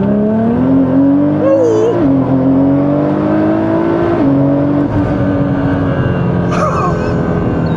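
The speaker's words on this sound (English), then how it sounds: "Let's do a second gear pull." A modified Nissan GT-R accelerates hard in second gear, its engine note climbing steadily in a loud, sustained pull with turbo whine over road roar, heard from inside the car.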